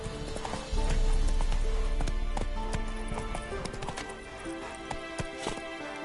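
Hooves of Roach, a horse in The Witcher 3 video game, clip-clop in a steady galloping rhythm, loud and close, with a brief whinny and faint game ambience around them.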